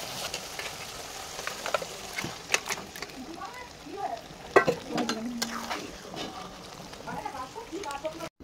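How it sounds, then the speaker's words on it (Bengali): Marinated mutton hitting hot, frying spice masala gives a steady close sizzle with crackles, scraping stirring clicks and a few louder pops throughout. "এবার আমি ম্যারিনেট করা মাটনটাকে দিয়ে দেব।"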